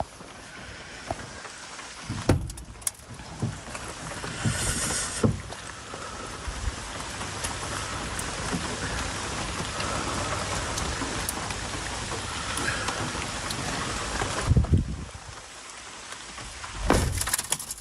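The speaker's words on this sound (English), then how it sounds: "And it's pouring with rain." Heavy rain pours steadily onto a camper van, a dense continuous drumming hiss on the roof with a few louder knocks and thumps near the start and end.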